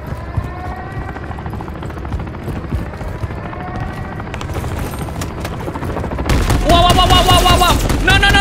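Helicopter rotor thrum with bursts of machine-gun fire in the shooter game Call of Duty Modern Warfare 3, swelling much louder near the end into a dense, close barrage.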